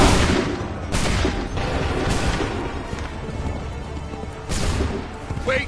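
Musket volleys in Assassin's Creed III, several loud crackling bursts of massed gunfire spaced a second or so apart, heavy and close, with faint battlefield commotion between them.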